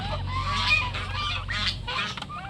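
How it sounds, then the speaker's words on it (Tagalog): Several young turkeys honking and peeping close by, overlapping calls in quick bursts over a low steady hum. "Tapos ito mga batang pabo na andito ngayon."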